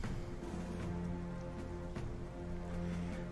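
Steady rain falls throughout a wartime battle in the strategy game Strategic Mind: Blitzkrieg, a continuous even hiss mixed with low ambient game tones and no talking.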